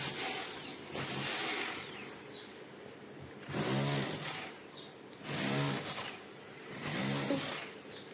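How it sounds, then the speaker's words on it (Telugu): A wall chipping machine cuts a channel into a bathroom wall for a 3/4 pipe. It runs in four loud, grinding bursts with a ringing whine, separated by short quieter gaps. "ఈ చిప్పింగ్ మిషన్ మీరు చూడొచ్చు."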